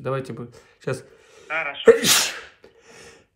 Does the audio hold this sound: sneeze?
yes